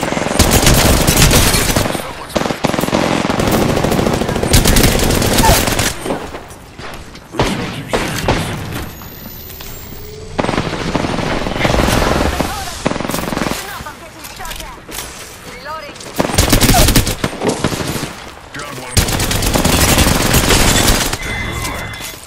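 Heavy automatic gunfire and booming shots in Apex Legends, loud bursts and sustained fusillades coming in waves with short lulls between, a voice talking over parts of the fight.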